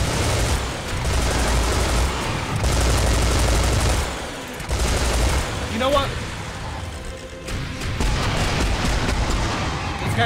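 Sustained minigun fire in the video game Serious Sam 4, a dense roaring barrage with booming explosions that continues almost without pause, and a player talking over it.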